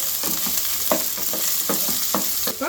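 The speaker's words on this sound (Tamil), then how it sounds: "இப்போ நம்ம அந்த அரிஞ்சு வச்ச வெங்காயத்தை போட்டுக்கோங்க." Chopped onions dropped into hot oil in a pan for matar paneer, a steady close sizzle with stirring scrapes and clinks recurring through it, no talk.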